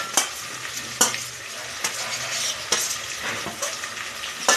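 Tomato pieces fry in a hot pan with a steady, close sizzle, broken every second or so by sharp scrapes of a spoon stirring them.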